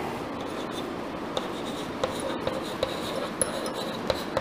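Chalk writing on a board in a classroom lesson on Roman numerals, a steady close scratching with small regular taps as each stroke lands, no voices over it.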